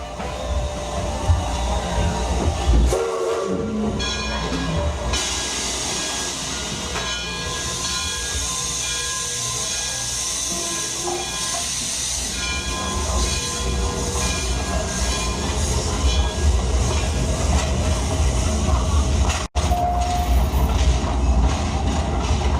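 A train runs on rails through England, giving a steady, loud rumble and rattle of the carriages with hissing and some brief higher tones, heard from close by for the whole stretch.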